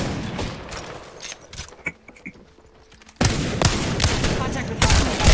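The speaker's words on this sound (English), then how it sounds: "They spotted me. I'm taking shots." Gunfire from the Apex Legends battle royale game: scattered shots under talk early on, then a loud, dense burst of rapid firing fills the last two seconds.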